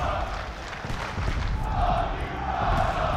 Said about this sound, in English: Crowd letting Draza know.